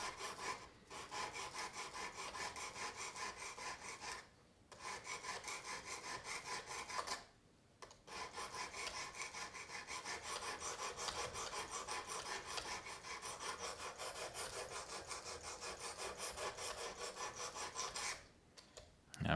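A thin knife blade is drawn across a Work Sharp Precision Adjust sharpener in long, quiet, steady rasping strokes, pausing briefly three times between passes.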